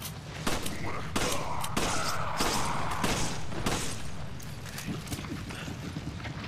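Gunfire in the Resident Evil 5 video game, a series of sharp, loud shots spaced roughly half a second to a second apart over game background noise, without talk over them.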